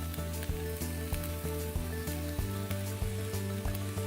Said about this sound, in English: we're sauteing the onions in that famous Pilene Estates olive oil